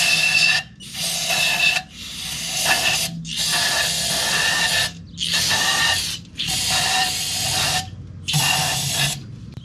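An aerosol spray can blasts onto a car engine's valve cover on a 2002 Nissan Altima in a series of about seven close, loud hissing bursts separated by short pauses.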